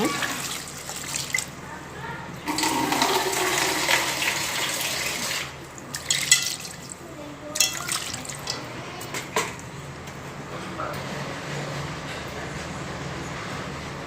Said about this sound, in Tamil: நம்ம சோப்பு தகுந்த தண்ணி விட்டுறலாங்க